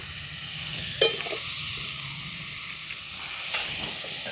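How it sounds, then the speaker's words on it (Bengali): Papaya and pumpkin chunks fry in a pan for sambar under a steady close sizzle, with a sharp clack near the start and a few faint stirring scrapes. "আমি পেঁপে কুমড়ো এই সবজিগুলো যেগুলো পেয়েছি সেগুলি দিয়েছি"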